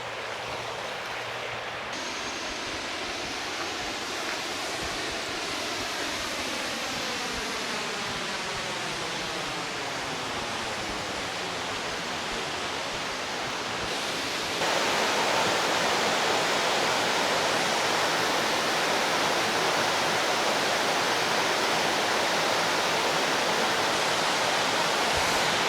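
Rushing, clear river water in Virginia's Shenandoah Valley, a steady broadband roar close by that swells and grows louder partway through, with no voices over it.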